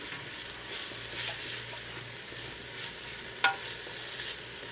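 Mushrooms sizzle and fry in a pan for chicken and sauerkraut soup, a steady soft hiss with faint stirring scrapes and one brief louder clink near the end, no voices.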